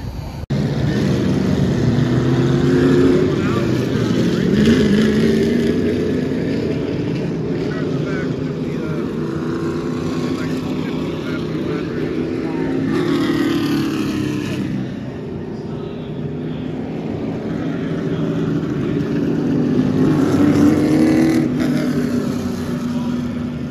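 Race cars at Irwindale Speedway, lined up for a 30-lap feature at night's end, drone loudly with engines rising and falling in pitch as they pass, a steady roar with swells around the middle and near the end.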